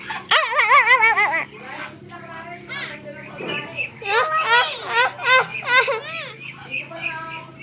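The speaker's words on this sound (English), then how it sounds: "Baby doggy, say hi to Ate Marnie." A small dog yips and whines in short excited bursts, close by, while someone talks and chatters over it.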